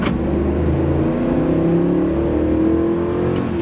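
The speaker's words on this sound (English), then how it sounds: "I'm going to see how quick we can get to, say, like 45 miles an hour from a dead stop" A 2004 Dodge Ram 1500 4x4 SLT pickup with a 5.7-liter Hemi V8 pulls away from a standstill, its engine droning loudly and rising steadily in pitch as the truck gains speed, heard from inside the cab.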